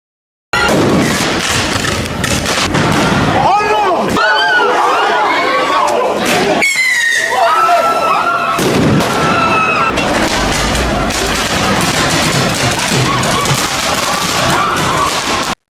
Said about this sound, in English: Police officers in Birmingham have been attacked with fireworks, fired at point-blank range